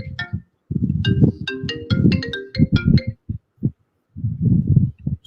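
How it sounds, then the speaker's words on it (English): Incoming phone call ringtone, a bright electronic melodic tune of quick repeated notes playing close and loud in two bursts with a brief gap, alone without talk. "I got a phone call."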